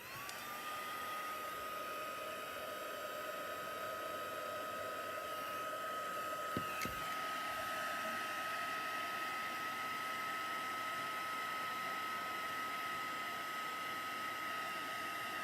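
Heat tool blowing steadily over stamped paper craft, a continuous close, even whir and rushing hiss that runs without a break and with no talk.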